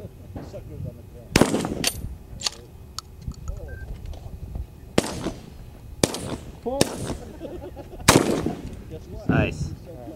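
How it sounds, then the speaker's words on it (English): Shotgun blasts at clay targets on an outdoor shooting range, several loud sharp reports spaced a few seconds apart, with people talking and reacting between the shots. "You shoot? Yeah. There's three clays."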